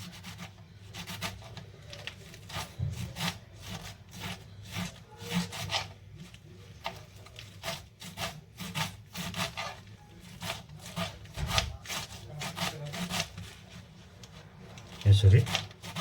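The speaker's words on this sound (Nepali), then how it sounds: "म यो काट्दैछु। यो साग, पालकको साग चाहिँ" A knife chops spinach leaves finely on a board, steady rhythmic thuds repeating at an even pace, with someone talking over the cutting.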